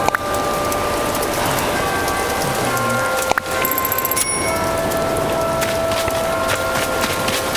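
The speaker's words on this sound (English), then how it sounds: "I like the rain, though." Rain falling in a video game, dense steady pattering throughout at fairly high level, with faint tonal chimes and a brief click or knock partway through, no talking.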